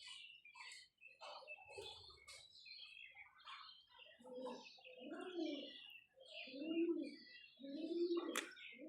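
Soft, low cooing from pigeons, repeated in several rounded phrases, mixed with faint chirps and light rustling; quiet and fairly close.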